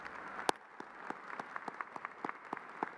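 A 2018 Sam Houston High School graduation crowd gives scattered applause for school staff, a sharp close clap followed by sparse, moderately faint claps from a modest group.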